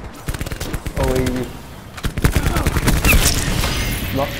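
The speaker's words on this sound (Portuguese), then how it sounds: "tô levando um tiro, não sei da onde" Rapid bursts of automatic gunfire from Call of Duty: Black Ops 4 gameplay, including the KN-57 rifle, crackle close and loud in repeated volleys, with game sounds and a few short voice sounds mixed in.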